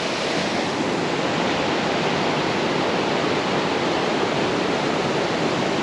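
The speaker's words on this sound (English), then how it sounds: "The waterfall right behind me." Waterfall in Kings Canyon National Park, a steady, dense roar of falling water that holds at an even level throughout, close and unbroken, with no voices over it.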